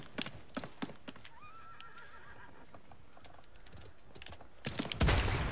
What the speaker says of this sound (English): Oh yeah, you can get on your horse.